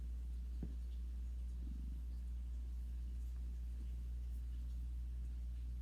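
A rescued, once-neglected house cat purrs close by in a steady, continuous low rumble that never breaks, with only a couple of faint soft clicks on top and no voices.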